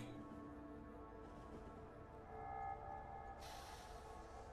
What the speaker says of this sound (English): You don't need 2 train cars pulling this, it just goes faster.